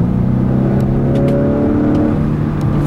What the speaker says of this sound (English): The engine also sounds really good too.